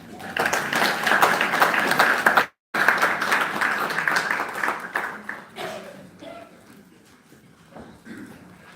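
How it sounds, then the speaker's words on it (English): An audience at an anti-corruption integrity conference claps after a presentation, dense and steady at first, then briefly cut off, resuming and thinning out over several seconds into scattered claps. "is that how you clap for someone who has done a proper research?"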